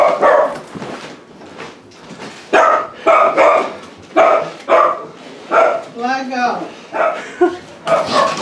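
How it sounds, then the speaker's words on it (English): A dog barks in loud, repeated bursts, roughly once a second, with an occasional whimpering yip, while people talk nearby indoors. "It's the crazy dog."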